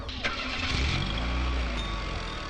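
A car engine cranks and catches, then revs and pulls away, a close rising engine drone with a sharp click near the start and faint voices underneath.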